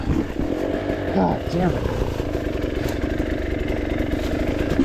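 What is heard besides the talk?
enduro dirt bike engine climbing a hill in second gear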